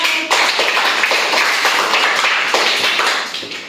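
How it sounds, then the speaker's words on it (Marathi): A class of primary school pupils at a village school quiz breaks into loud, sustained clapping for a correct answer, a dense patter of many hands that fades slightly at the end. "याच्यासाठी पण तुला टाळ्या"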